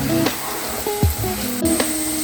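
Thick jackfruit preserve is cooked in ghee with sugar, cardamom and dry ginger, making a soft, steady sizzle broken by a few scraping stirs and clunks of the spoon against the pan.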